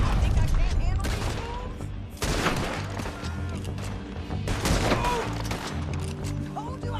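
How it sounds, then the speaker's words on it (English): A shootout in Red Dead Redemption 2 plays out with loud, rapid, overlapping gunfire and crashing hits that pound continuously under game music and effects. "Told you I could shoot a gun, didn't I?"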